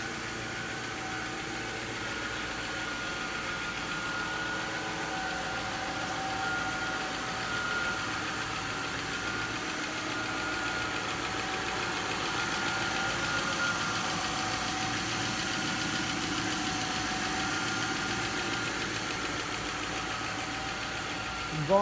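A 2000 Lincoln LS with a 3.9 liter V8, damaged in a right front collision, idles steadily on an engine test, a continuous even hum with faint mechanical ticking, close and alone throughout.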